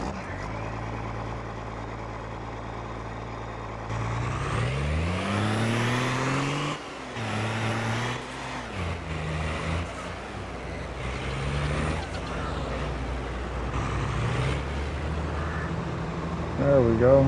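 Truck engine in Farming Simulator 22, a steady low drone that rises into a revving climb mid-clip and then settles into a varying hum, with game sounds layered over it.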